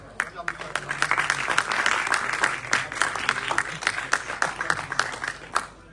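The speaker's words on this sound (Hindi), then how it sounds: "थोड़ा सा तालियां अगर और अच्छी तेजी से बजाएंगे और अच्छा लगेगा।" Audience applause at a national youth award ceremony in Dehradun, Uttarakhand: a dense wash of many hands clapping with sharp individual claps standing out, steady and moderately loud, with a voice speaking over it.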